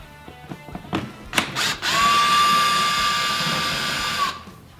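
Close power tool whirring steadily for a couple of seconds while removing bolts on a 2008-2013 Harley Davidson Street Electra, preceded by a few clicks and short bursts.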